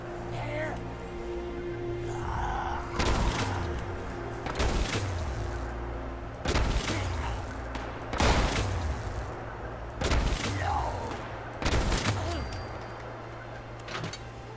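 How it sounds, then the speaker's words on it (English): Repeated sharp gunshots ring out roughly every one to two seconds during combat in Fallout 76, each a loud broadband crack with a short tail, over a steady low game hum. "Is it just me, or was somebody else shooting? Yeah, there's definitely combat going on here."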